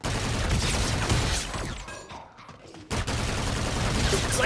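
Rapid bursts of gunfire in Call of Duty Infinite Warfare zombies mode, loud and dense, broken by a short quieter lull before the shooting resumes.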